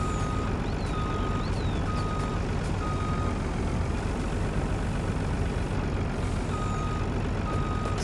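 Truck reversing beeps from the heavy hauler in Farming Simulator 19 sound as a steady repeating tone over a constant engine rumble and broad noise, with no talk.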